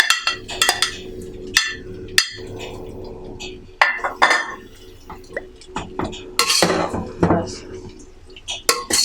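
A utensil clatters and scrapes in a pan as chicken chow mein is tossed and mixed, giving repeated sharp metallic clinks and knocks in an irregular rhythm, close and fairly loud.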